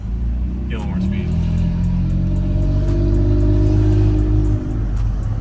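Toyota Tacoma pickup with an aftermarket Amazon exhaust accelerating from a cruise, a steady low engine drone and exhaust rumble building in pitch, with people talking over it inside the cab.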